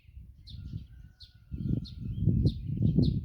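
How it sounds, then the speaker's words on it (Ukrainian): Morning birdsong in a Ukrainian village, chirping in short repeated bursts above a low rumbling background, likely wind, which grows louder partway through. "але вранці пташечки все одно виводять свої серенади"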